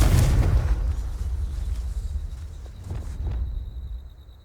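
In Hogwarts Legacy, a Confringo blasting spell sets off a heavy, deep boom up close, followed by a rumbling, crackling tail that slowly fades over several seconds, with scattered smaller thuds and pops.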